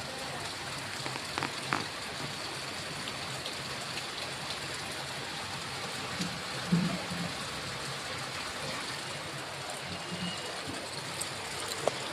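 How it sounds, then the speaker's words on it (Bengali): Steady rain falls outside on a rainy day, a continuous, even hiss of drops with no talking. "বৃষ্টি পড়ছে বাইরে।"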